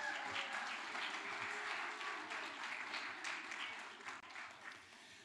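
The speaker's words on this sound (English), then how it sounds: "Give him a round of applause again." A round of applause for a speaker at a faith community gathering, dense and steady clapping from a room of people that gradually fades toward the end.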